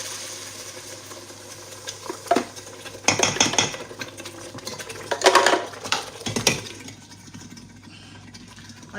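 A tomato-pepper blend for jollof rice goes into hot salted oil in a pot, a few sharp clattering bursts of utensils and pot handling over a quiet low hum, then a softer tail.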